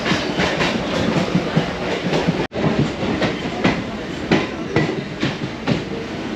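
An overnight passenger train to Kerala, India rolls along the rails, with a steady clickety-clack of rhythmic wheel beats over a rumbling interior din and a brief sharp dropout midway.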